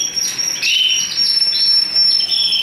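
A male Lipochrome Mosaic canary sings close and loud in a breeding room, a continuous bright run of high chirps and trills with other birds faintly behind.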